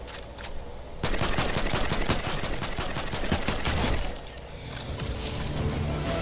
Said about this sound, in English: This actually is supposed to be like the pump shotgun.